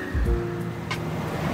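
Water runs steadily through a city water feature in Kuala Lumpur, a moderate wash of flowing water with faint street and traffic sounds in the background and no talking.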